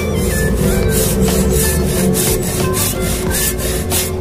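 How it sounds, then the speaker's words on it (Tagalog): A hand saw rasps steadily back and forth through a tough fruit rind, close up, with a regular rhythmic stroke and no talking. "Kaya dapat ito lagariin."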